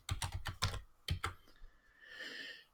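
Quick keystrokes on a computer keyboard, a run of sharp clicks in an uneven rhythm followed by a short pause and a few more taps, recorded close and alone before a soft hiss.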